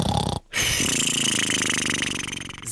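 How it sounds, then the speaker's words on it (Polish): A sleeping character in the video game Minecraft snores loudly in long, steady, rasping pulls that repeat after a short silent gap near the start. "Zasnął, ale głośno chrapie."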